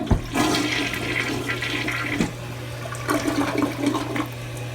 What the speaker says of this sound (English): let's show you how powerful this toilet is and what a great flush it has